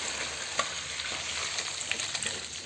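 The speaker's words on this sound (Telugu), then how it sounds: "ఇది కొద్దిగా పులుసు అంతా దగ్గర పడేంతవరకు కడాయిలో ఉడికిస్తుంది మమ్మీ" Village-style natu chicken curry bubbles and sizzles softly in a kadai, a faint, even frying hiss with a couple of small ticks.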